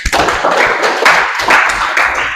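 A group of students in a class session clap their hands together, a loud, close burst of dense, rhythmic claps that carries on steadily throughout.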